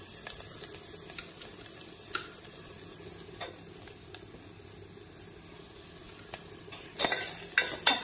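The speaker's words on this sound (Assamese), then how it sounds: "অকণমান আলুখিনি ভাজিব লাগে" Broken potatoes fry quietly in a pan at lunch preparation, a low steady sizzle with occasional soft scrapes of stirring that grow louder and clatter near the end.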